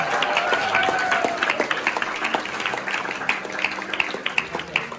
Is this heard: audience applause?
yes